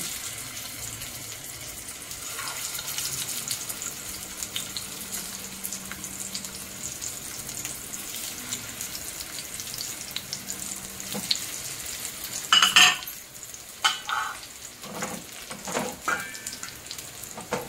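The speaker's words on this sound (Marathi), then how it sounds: "अशाच प्रकारे आपण सर्व हे शिमला मिरची फ्राय करून घेऊया" Stuffed capsicum fries in a pan with a steady close sizzle and hiss, a brief burst of louder spatter near the end, plus some faint clinks; no one speaks.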